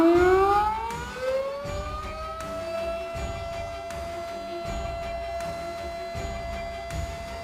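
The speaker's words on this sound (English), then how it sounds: "The sound of Darley Champion." A Darley Champion siren winds up and wails, its rising tones climbing and then holding a steady, piercing pitch with strong harmonics. It sounds loud and continuous, with no voices over it.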